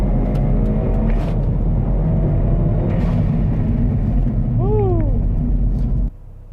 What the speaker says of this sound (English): 2nd gear, back on throttle.